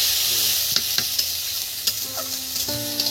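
Chopped onions are tipped into spices frying in hot oil for a cauliflower curry, giving a steady hiss with a few clinks and scrapes of a spoon stirring the pan; nobody speaks.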